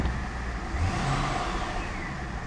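A Pontiac G8 GT engine idling unevenly nearby with a damaged transmission, its low rumble surging and wavering slightly, with no voices.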